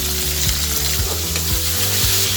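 Sliced onions sprinkled with salt sauté over a medium flame, a loud, dense, continuous sizzle with occasional stirring, up close and steady throughout.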